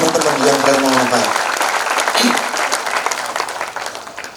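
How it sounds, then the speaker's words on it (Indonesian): A crowd at a handover of electric pedicabs claps for the recipients, dense applause over the whole stretch, with a voice speaking at the start. "Tepuk tangan untuk teman-teman yang penerima manfaat."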